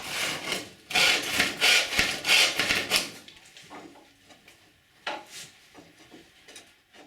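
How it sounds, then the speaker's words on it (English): Close, rhythmic back-and-forth hand sawing through material on an outrigger support, about a dozen quick strokes in the first three seconds, then softer scraping and a few scattered knocks, no talking. "I cut off most excess material."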